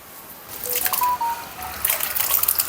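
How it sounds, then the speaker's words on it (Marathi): Field beans (ghevda) are washed in clean water, with short splashes, drips and trickles coming close and at moderate loudness over a few seconds. "असं दोन वेळा स्वच्छ पाण्यानं धुवून घेतली भाजी मस्त"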